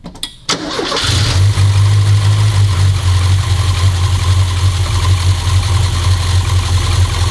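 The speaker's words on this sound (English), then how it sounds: "if you started up without revving it, would it just tick over?" A 1982 Ford Fiesta XR2 engine cranks briefly, catches and settles into a loud, close, steady low idle without revving, a continuous rumble that holds to the end.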